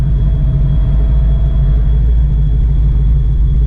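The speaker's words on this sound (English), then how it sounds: "We got this car back on the road. It's running pretty good." A Fox body car's engine runs steadily at close range, a loud, continuous low rumble with a faint whine above it and no speech.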